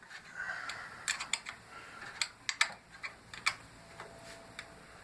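A small bolt being backed out with a wrench during a teardown: a series of quiet, sharp metallic ticks and clicks at an irregular pace, close by, with no talking.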